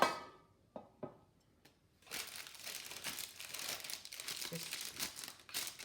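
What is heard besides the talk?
crinkling paper lining taken out of a loaf tin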